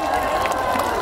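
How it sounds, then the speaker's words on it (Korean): Crowd applause and cheering at an outdoor riverside festival stage in Busan swell briefly as a dense, steady wash of clapping, with voices mixed in. "여러분 다시 한 번 더 큰 박수 부탁드리겠습니다"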